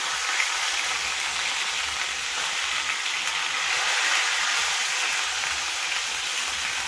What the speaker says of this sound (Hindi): एना लाल कऽ के सबटा माछ तैर के निकाल लै छी।